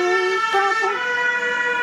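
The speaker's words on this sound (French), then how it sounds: "Vous allez entendre les pompiers ou les ambulants" Loud wailing sirens of fire engines and ambulances passing close by, several overlapping tones sliding up and down over road noise.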